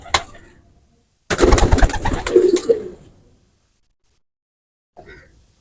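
Young Teddy and Golden pigeon chicks coo and call close by, with a dense burst of soft cooing in the middle, a brief call at the start and one short call near the end.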